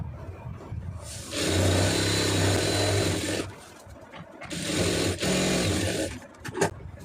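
A sewing machine stitches a churidar pant seam in two runs: a loud, close, steady whirring burst of about two seconds, a pause, then a shorter second run, with handling clicks at the end.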